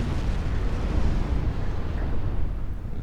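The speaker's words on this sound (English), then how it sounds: "She's got an ammo detonation." Ship ammunition detonation aboard a battleship in the naval warfare game Ultimate Admiral Dreadnoughts, a sustained low rumbling roar of explosion that stays loud and dense from start to finish, with no voices.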